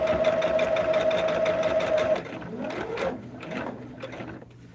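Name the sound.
sewing machine sewing a log cabin hexagon table topper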